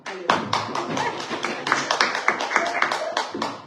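Brief burst of clapping from a church congregation at a French-speaking Shabbat service, scattered hand claps of moderate loudness with a murmur of voices underneath.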